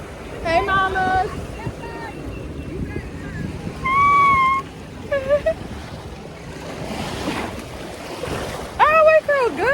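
Ocean surf rolls in at a beach in Puerto Rico, a broad washing rush with wind buffeting the microphone, while people talk and whoop over it in bright bursts.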